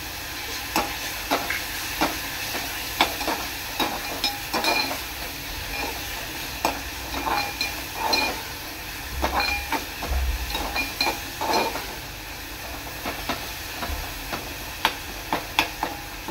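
Ginger-garlic paste sizzles in a pan of cooking onion-tomato paste for a dried baby-fish fried rice, with a steady fry under repeated sharp clicks and scrapes of a spoon stirring the mixture.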